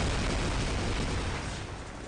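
Flash Cannon move from Pokemon Legends Z-A sounds as a dense, loud burst of blasting noise filling the whole moment, booming and then tapering off slightly at the end, with no voices.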